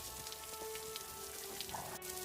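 Cartoon rain falls steadily as a soft, even hiss with scattered light drips, continuous and moderately quiet behind faint background tones.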